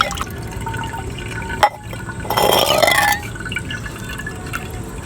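Thandai being strained through a cloth or sieve, with liquid splashing and pouring steadily into a vessel, a brief clink near the middle, and a louder rush of pouring for about a second before it settles back to dripping.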